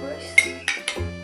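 A utensil scrapes and clanks against a pan while beef with chili is stirred, giving three distinct metallic knocks over a low steady sizzle, close and fairly quiet.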